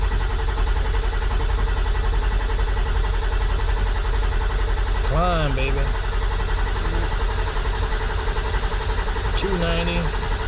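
A Ford 7.3 diesel engine with high-pressure oil pump trouble cranks on new batteries without getting fuel. The starter drone is loud and steady, unbroken throughout and never catching, with brief voice-like sounds over it.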